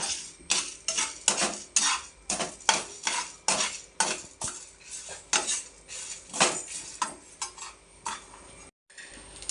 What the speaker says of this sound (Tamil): கடுகு போடும் பாருங்க கடுகு கடுகு அப்புறமா இதை போட்டு கிண்டுவோம்